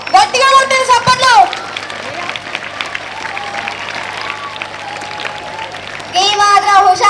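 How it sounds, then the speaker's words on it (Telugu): Schoolchildren clap loudly at a Bonalu festival celebration, a dense burst of applause in the middle of the clip, bracketed by a voice speaking before and after. "గట్టిగా కొట్టిన చప్పట్లు"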